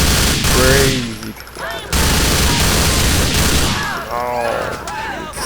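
Gunfire from the video game GTA IV: loud sustained bursts of automatic fire and booms, overlapping with voices talking.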